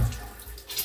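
A brief gush of water runs from a pipe during plumbing work on a valve in a countryside job, a short, close rushing flow that lasts under a second.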